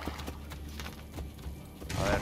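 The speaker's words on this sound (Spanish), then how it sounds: "Iré más rápido a caballo." Horse hooves clop rhythmically in Assassin's Creed Brotherhood, a run of evenly spaced hoof strikes at moderate distance, with a louder burst of sound near the end.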